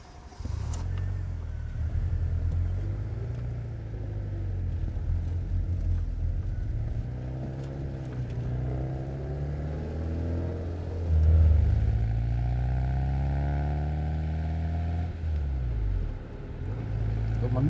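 Interior of a Fiat Panda 141 small car while driving: a steady buzzing engine drone with rising and falling revs as it accelerates and shifts, loud and close throughout, with no talking.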